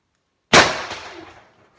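A Pepperball Patrol carbine fires one sharp, loud report from silence, followed by a roughly one-second fading echo.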